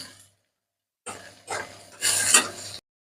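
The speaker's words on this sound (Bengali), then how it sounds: "পেঁয়াজ গুলি এবারে ভাজি নিবে" Chopped onions are stirred and fried in hot oil in a wok, giving three short bursts of sizzling and scraping with quiet gaps between them and no talking.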